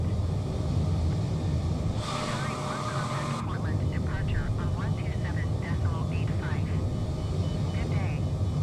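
Boeing 787-10 climbing after takeoff in a flight simulator, a steady loud rumble and roar of jet engines continuing throughout, with a brief hiss partway through and faint radio-like chatter layered over it.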